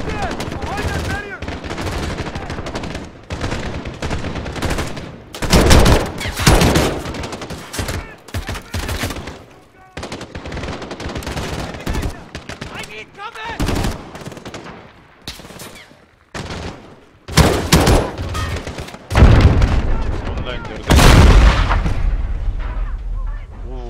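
Gunfire and bomb blasts in the video game Call of Duty Modern Warfare: loud bursts of rifle and machine-gun fire and heavy booming explosions close by, coming in irregular waves, with a voice talking over the combat at times.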